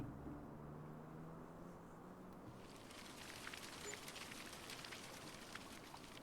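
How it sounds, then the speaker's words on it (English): Rain falling by a river in the video game Farming Simulator 25: a steady broadband hiss that swells after a couple of seconds and then holds, with no one talking. "Sounded like it was raining a little bit. The rain sounds weird down by the river here."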